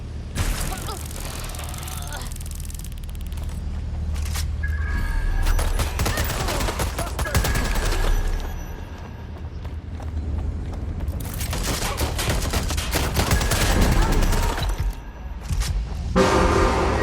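Heavy bursts of gunfire crackle through a Watch Dogs Legion firefight, loud and sustained with rattling volleys, brief lulls and mechanical clatter between them.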